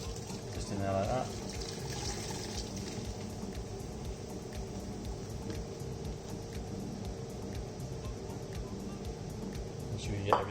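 A whole bottle of Newcastle Brown Ale poured into a pan, giving a soft, steady liquid gurgle that runs for several seconds, fairly faint, with a small clunk at the very end.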